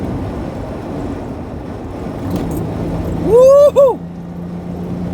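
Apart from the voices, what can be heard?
1988 Pontiac Fiero GT accelerating after downshifting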